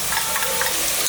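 Ginger-chili paste sizzles in hot oil in a pan while being stirred for restaurant-style veg fried rice, a steady close frying hiss with light scraping throughout, no talking.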